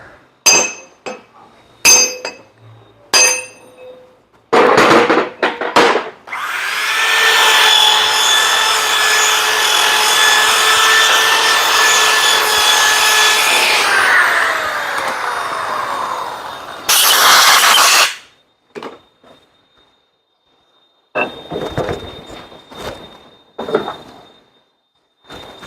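A flap wheel reams the bushings of a front axle stub: a sustained whirring, scraping grind lasts about ten seconds, preceded and followed by sharp metallic clinks and brief bursts of tool noise.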